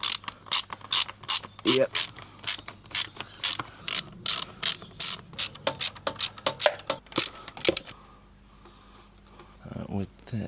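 A hand ratchet clicks in rapid, loud bursts close up, undoing the fairing bolts on a motorcycle being stripped for circuit use, then pauses, with brief talk and a short final ratchet run at the end.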